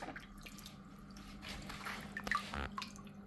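A Hydor aquarium filter runs and moves water, producing faint, steady trickling and bubbling, with a few drips and gurgles standing out near the end.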